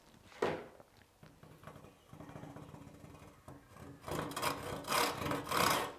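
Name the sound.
hand saw cutting wood along the grain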